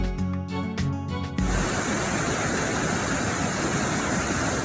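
Uny Falls, a waterfall at the top of a short trail along Smith Creek near Helen, Georgia, roaring as a steady, full, loud rush of falling water, coming in abruptly after a short burst of music.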